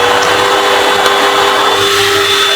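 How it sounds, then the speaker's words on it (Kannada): An automatic hand dryer in a Vande Bharat Express train washroom blows with a steady, loud, close-up whir and a constant tonal hum, running without pause and without talk. "ಮೋಸ್ಟ್ಲಿ ಇದು ಹ್ಯಾಂಡ್ ಡ್ರೈಯರ್ ಅನ್ಸುತ್ತೆ ನೋಡ್ರಿ"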